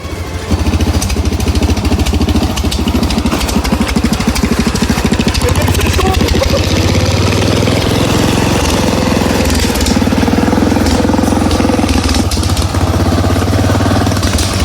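An old riding lawn mower tractor with no brakes heads down a slope, its small engine droning loudly and continuously with rattling and clattering, close and unbroken throughout.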